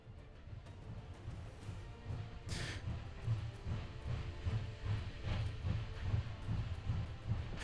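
A train rolling along in the H3VR virtual-reality shooter, a steady low rumble with rhythmic clacking pulses and a brief hiss partway through, no voices.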